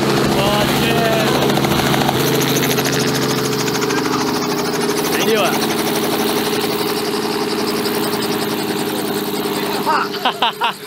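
A helicopter's engine and rotor on a first-ever helicopter ride at an open airfield give a loud, steady droning roar with a throbbing beat. It holds nearly unbroken before pulsing and dropping away at the very end.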